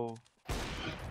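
A loud burst of gunfire from the CS:GO video game erupts after a brief quiet stretch, with a short fading tone just before it.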